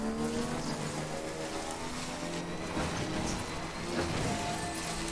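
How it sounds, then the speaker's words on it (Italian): Motorbike ridden in the video game Death Stranding, a continuous droning engine tone with shifting pitch as it accelerates, at moderate level without speech. "Vediamo un po' come si comporta la moto"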